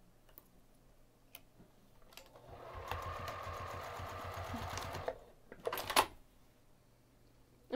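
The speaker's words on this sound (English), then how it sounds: "I'm going to take this over to the sewing machine and sew the handles where they're pinned using an eighth of an inch seam allowance" A sewing machine stitching the handles of a fabric Easter basket with an eighth-inch seam runs in a steady rapid whir for a couple of seconds, bracketed by soft clicks and handling noises, fairly quiet.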